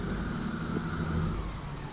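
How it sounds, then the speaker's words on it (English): A truck engine in the video game Farming Simulator 2017 drones steadily with a low rumble, idling or easing off the throttle, loud and continuous with no talking. "Now that sounds like a proper truck."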